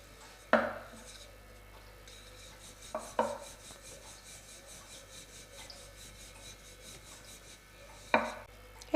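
Atta naan dough balls are rolled out with a rolling pin, giving a quiet, low rubbing roll with a few sharp knocks of the pin against the board spaced through an otherwise calm, close scene.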